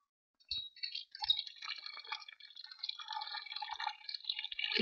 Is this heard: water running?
yes